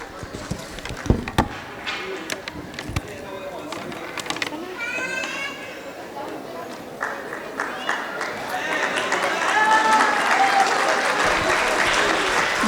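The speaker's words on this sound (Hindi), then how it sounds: "जोरदार तालियां" An audience breaks into sustained applause after a children's skit about Mahatma Phule, the clapping swelling and growing denser toward the end, with children's voices and crowd chatter mixed in.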